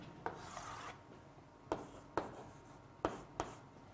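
A teacher writing on a board during a matrices lesson: a few short scratchy strokes and taps spaced through the stretch, close and fairly quiet, with no speech.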